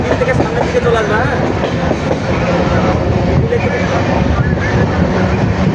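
A passenger train between Ranaghat and Krishnanagar runs with a loud, continuous rumble and rhythmic clatter of wheels, with faint voices beneath the noise.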